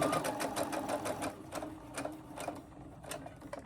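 A Brother sewing machine stitching fabric close up, a fast, even mechanical chatter of needle strokes with a steady motor hum underneath, running continuously with no talk.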